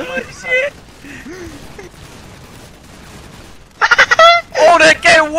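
Rapid bursts of gunfire from a shooting video game, loud and close, with excited shouting voices earlier in the moment.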